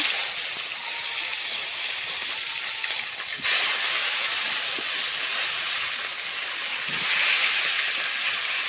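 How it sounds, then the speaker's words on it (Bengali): Washed cauliflower pieces frying in oil left from frying fish, a steady loud broadband sizzle and hiss that runs the whole way with a brief dip and surge midway, no voices. "এখন আমি মাছ ভাজা তেলে ধুয়ে রাখা কপিগুলো ভেজে দেব"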